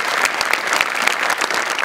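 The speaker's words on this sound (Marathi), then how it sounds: "जोरदार टाळ्या, सुपर." A studio audience at a Marathi comedy show bursts into loud sustained applause, dense overlapping claps filling the room evenly from start to finish.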